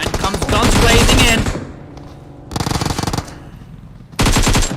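Gunfire in the mobile battle royale BGMI during an esports tournament match, three loud automatic bursts fired in rapid rattling strings with short pauses between them.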